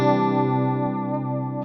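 Electric guitar chord played through the stock stereo chorus effect in Helix Native, aiming at an '80s session tone, ringing as one sustained strum for under two seconds, loud and steady with a slight fade at the end.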